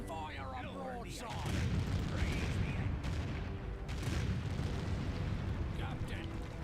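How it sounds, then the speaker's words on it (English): Broadside cannons firing from a ship in the Empire Earth strategy game, a dense rumbling barrage of booms that starts after a quiet first second and rolls on loudly and continuously under game noise. "Fire up broadside."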